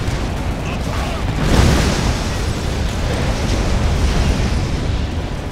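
Firehawk airstrike explosions in Command & Conquer 3 rumble as a dense, continuous roar of blasts and debris, swelling to a louder burst early on and staying heavy throughout, with battlefield voice chatter mixed underneath.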